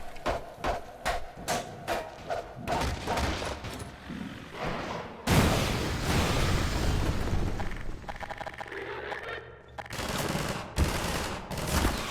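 Rocket launcher fire in Half-Life 2 RTX: a quick run of rhythmic shots gives way to a loud, roaring whoosh and rumbling blast that sustains for several seconds, then further booms, all close and dense.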